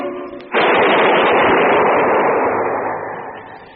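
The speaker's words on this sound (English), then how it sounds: "That was the shot that killed Harry Lime." Single loud gunshot in a radio drama, a sharp blast with a long rolling reverberant tail that slowly fades, alone without talk.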